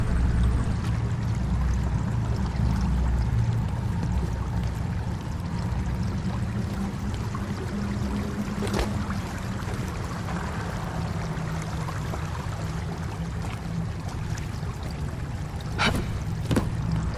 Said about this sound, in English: that's got the water flowing